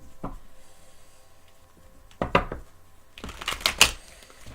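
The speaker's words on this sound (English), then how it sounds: "going to shuffle the tarot" Soft papery riffles and slaps of tarot cards being shuffled, coming in a few short bursts with quiet gaps between.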